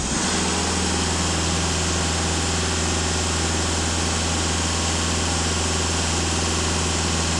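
Skoda A7 2.0 TDI diesel engine with 260,000 km held at a raised idle around 2500 rpm during a DPF and EGR cleaning, a steady, loud, continuous drone with deep low hum, no talking.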